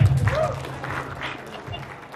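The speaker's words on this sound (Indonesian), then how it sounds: "Tepuk tangan buat semuanya." Applause rises from an audience at an alumni event, with steady, moderate clapping through the whole stretch as a voice carries on beneath it.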